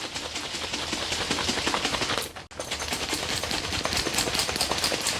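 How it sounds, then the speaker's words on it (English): Capped container of apple juice being shaken hard, a dense rapid sloshing and rattling that runs steady for a few seconds, breaks briefly, then resumes close and loud. "Put the top on and shake it."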